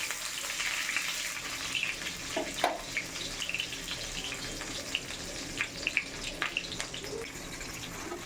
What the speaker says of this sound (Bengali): তেলটা গরম হয়ে আসলে এর মধ্যে কুচনো পেঁয়াজ দিয়ে দেওয়া হলো।